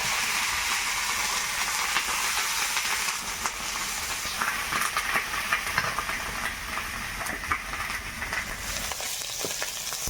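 Ginger, green chilli and nigella seeds frying lightly in oil in a pan, a steady close hiss of sizzling with scattered sharp crackles and pops throughout, no voices.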